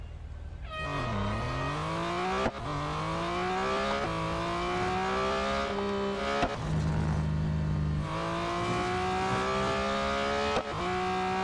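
A 2021 Porsche 911 GT3 race car in Real Racing 3 laps the Nürburgring Grand Prix circuit, its engine revving hard and climbing through gear changes with repeated shift drops, loud and close, with no talking.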